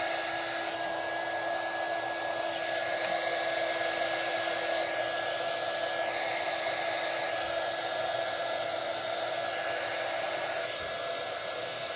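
Heat gun warming a thick layer of wax to thin it out, a steady continuous blowing whir with a faint tonal hum, close and unchanging throughout.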